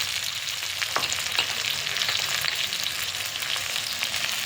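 Ginger-garlic paste hits hot oil with potatoes that are already browned, giving a loud, steady, close sizzle of frying with faint stirring scrapes throughout.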